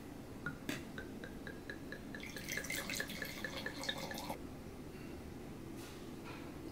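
A drink poured into a glass for a blind taste test, a close, quiet trickle with a rhythmic series of drips and a brief burst of splashing in the middle, no talk.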